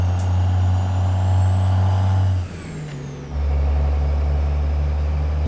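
A Kenworth W900A truck with an 800 hp Pittsburgh Power engine in American Truck Simulator drones loudly and steadily, dipping briefly as the engine note shifts at a gear change, then resumes a deep, constant roar without speech.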